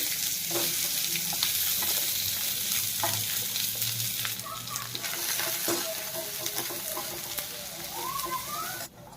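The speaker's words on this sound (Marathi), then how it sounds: "आता लगेच आहे ना आपण कांदा सुद्धा भाजून घेऊ" Onion dry-roasting in a hot pan on a gas stove after coconut, for a Maharashtrian katachi amti: a steady, close crackling sizzle with occasional scraping stirs, continuous throughout.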